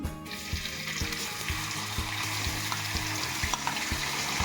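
Four medium onions and four green chillies fry in a pan with a loud, steady sizzle and a soft rhythmic scraping as they are stirred, close up with no talking.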